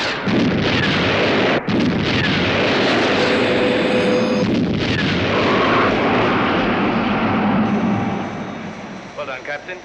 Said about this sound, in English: Missile launch